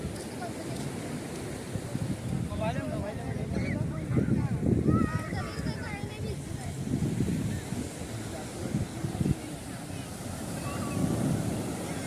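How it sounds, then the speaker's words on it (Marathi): Sea waves at Suruchi beach in Vasai wash in as a steady low roar with rolling surges, mixed with gusty wind rumble across the microphone and a busy crowd of beachgoers nearby. "इकडे समुद्राच्या लाटाही खूप सुटल्या आहेत."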